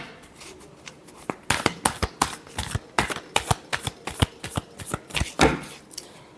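Tarot cards being shuffled in a rapid series of crisp riffling flicks and snaps, quiet at first and then building into a steady, close run of sharp card strikes with no talking.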